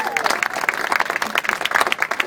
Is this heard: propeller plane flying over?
no